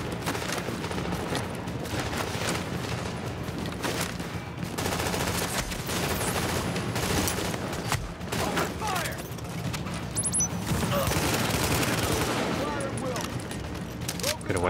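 Gunfire in Tom Clancy's The Division comes as dense, continuous volleys of rapid shots mixed with mechanical clatter. The shooting runs throughout, and a voice speaks over it at times.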